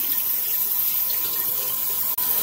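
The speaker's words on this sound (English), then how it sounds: "All right, so I'm gonna rinse the wings off too." Frozen smoked turkey wings rinsed under a kitchen tap: a steady, close stream of running water splashing into the sink, with a brief cutout near the end.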